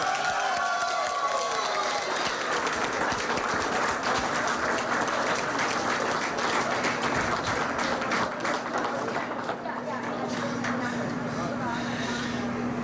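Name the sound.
supporters applauding and celebrating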